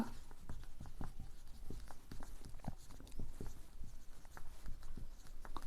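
A pen scratches out math answers on paper in quick, irregular strokes and taps, close and clear, with no talking over it.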